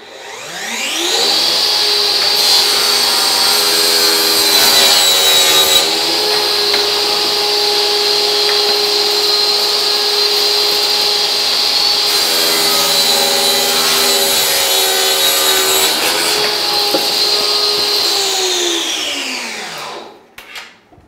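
A Metabo TS 36-18 LTX BL 254 cordless table saw rips through wood along the rip fence, its blade whining loud and steady for about twenty seconds across two cuts before spinning down.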